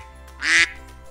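A single loud, raspy quack from a duck, short and close.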